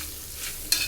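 Beetroot fry with its tempering is tossed in a pan, giving a faint hiss of sizzling and then one brief, sharp scrape of the stirring spoon near the end, with no voices.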